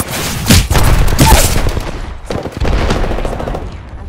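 Rapid automatic gunfire from Apex Legends, loud and dense bursts with sharp reports, a brief pause near the middle, then more firing continuing to the end.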